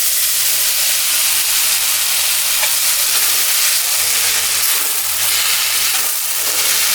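Raw mango pieces sautéing in hot oil in a pan with salt, a steady loud hiss and sizzle continuing for several seconds with slight surges, no voices.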